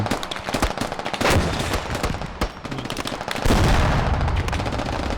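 Gunfire in the video game Squad: loud, close bursts of rapid automatic fire with sharp individual shots, continuous over several seconds with heavier volleys near the end.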